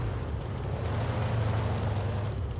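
An AMX 13 F3 AM self-propelled artillery piece fires in a video game, producing a heavy, sustained low rumble and blast wash that stays loud and close throughout with no voices.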